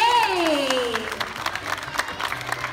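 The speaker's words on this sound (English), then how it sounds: "So for the homeroom teacher for G3, please clap your hands for Mr. J." A school crowd claps for a few seconds for a homeroom teacher as a voice trails off at the start, the applause loose and moderately loud.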